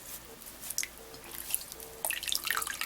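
A makeup sponge being dunked and squeezed in a small basin of water, giving soft drips and wet squishes at close range, with louder splashy bursts toward the end.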